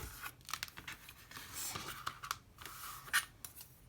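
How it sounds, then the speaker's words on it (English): A craft cutter slicing through a piece of chipboard for a paper purse, giving a string of close, quiet snipping and scraping cuts with short pauses between them. "I'll come back in with my cutter, and I'm just going to cut off that piece."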